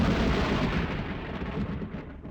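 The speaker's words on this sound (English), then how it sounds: "there was another huge explosion" A huge explosion in the survival horror video game Corpse Party: Blood Drive, heard as a deep, loud booming rumble that slowly fades, with no voices.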